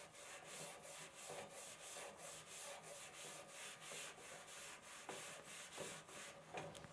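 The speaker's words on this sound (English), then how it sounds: "we're gonna go take a little section of our stainless steel barbecue, and we're gonna give it some scrubs" A rusty stainless steel barbecue grill is scrubbed with Barry's Restore It All in straight, steady back-and-forth strokes. It makes a quiet, rhythmic rasping rub, close by and without talk.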